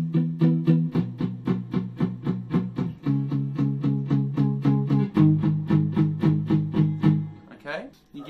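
An electric guitar chugs steady quaver power chords, changing chord every few beats, evenly picked and fairly loud, ending with a brief slide.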